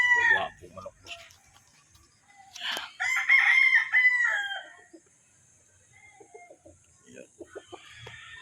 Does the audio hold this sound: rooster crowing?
yes